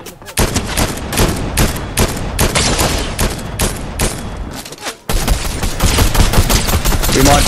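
Dense bursts of automatic gunfire in a Fortnite match, loud and close, firing in rapid volleys with brief pauses before a sustained final stretch.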